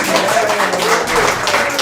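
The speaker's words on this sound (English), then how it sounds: "let's have another round of applause for Chairwoman Penny Hess." A convention crowd claps in a steady round of applause for Chairwoman Penny Hess at the 2025 USM National Convention, a dense, even wash of hands with voices mixed in throughout.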